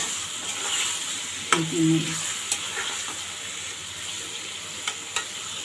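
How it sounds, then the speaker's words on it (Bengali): Spice masala for a pangas fish curry with tomatoes and green chillies sizzles steadily in a pan, with occasional sharp scrapes and clinks of stirring, close and without speech. "ভালোভাবে মশলাটাকে কষিয়ে নিতে"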